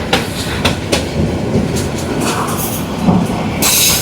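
A passenger train runs along the Jamalpur–Mymensingh line in Bangladesh, its wheels clacking rhythmically over rail joints with a loud rumbling roll and a brief hiss toward the end.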